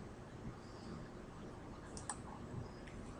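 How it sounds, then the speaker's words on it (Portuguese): Computer mouse in simulation software gives one sharp, close click against a quiet, steady background hiss, with a couple of softer ticks around it. "clique em Close"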